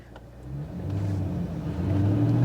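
A Corvette Z06 V8 engine revs up under acceleration, a deep rumbling growl that swells steadily in pitch and volume, heard from inside the car with no talking.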